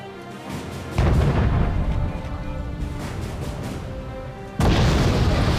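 Chieftain tank guns in the video game Wargame: AirLand Battle fire in heavy booming blasts, one near the start and another late, with rumbling battle noise sustained between them.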